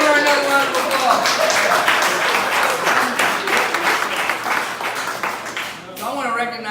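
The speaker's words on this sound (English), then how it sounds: "Let's give her another round of applause." An audience at a precinct delegate and organizer meeting gives a loud, sustained round of clapping, dense and close, with a few voices mixed in before it tapers near the end.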